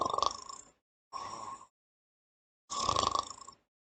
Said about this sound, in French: Oh, mais c'est qui ronfle comme ça?